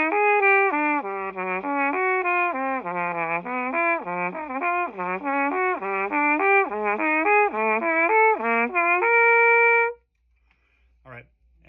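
A brass instrument plays a practice drill of rising and falling triplet note groups, clear and close in a quiet room, followed by a short pause and a faint stray sound.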